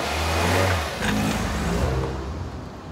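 A Ford Mondeo's engine revs up loudly and close, the note climbing then easing before a second, rising surge that fades toward the end.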